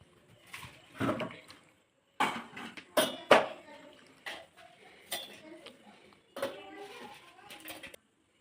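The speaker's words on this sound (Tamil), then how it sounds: "இப்போ நம்ம மிக்ஸி ஜாரில் மாற்றிக்கலாம்." Roasted black gram dal, dried red chillies and garlic are scraped and tipped into a mixer jar, making repeated metallic clinks and scraping clatters of a spoon against steel in uneven bursts.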